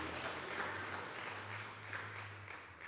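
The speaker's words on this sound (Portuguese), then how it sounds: "dê um aplauso a Deus" A church congregation breaks into sustained applause, a soft, even wash of many hands clapping at a distance, with no break in the sound.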